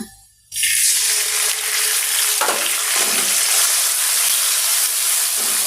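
Onion paste for egg korma drops into hot oil after a brief silence, setting off a loud, sudden broad sizzle that continues strongly and evenly, with a few soft stirring scrapes in the pan.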